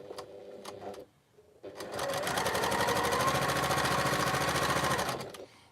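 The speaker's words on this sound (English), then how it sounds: "So all I'm going to do now is sew straight down this line." A sewing machine stitches straight down a seam line while piecing interlocking fabric triangles. A brief start comes first, then after a pause a loud, steady run of rapid needle strokes lasts several seconds before it stops.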